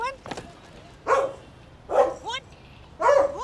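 A human voice imitates a dog's barking, giving three loud, separate bark-like yelps roughly a second apart after a short opening call, close to the microphone.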